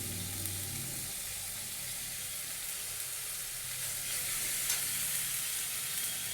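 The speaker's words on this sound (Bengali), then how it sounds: "এবার আমি দিয়ে দিচ্ছি ধনের গুঁড়ো জিরের গুঁড়ো" Ground coriander and cumin powder hit a hot pan for a mushroom curry, giving a steady, soft sizzle and frying hiss that runs evenly throughout, with no voices.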